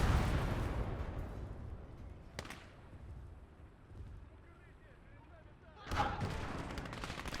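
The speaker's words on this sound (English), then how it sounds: "just gave you an idea of what the Flak 88 specifically sounds like" Flak 88 anti-aircraft gun firing in the WWII game Gates of Hell: two heavy booming shots several seconds apart, each followed by a long rumbling echo fading away.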